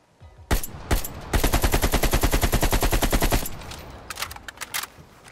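Rifle fire in the video game Black Ops Cold War: a couple of single shots, then a long rapid automatic burst of sharp, loud reports, followed by a few scattered shots with mechanical clicks.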